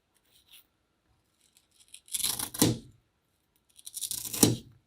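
Green craft foam being cut into four small pieces with scissors, heard as two clear bursts of snipping and crunching a second or two apart, close and fairly loud, with quiet handling between and no talk.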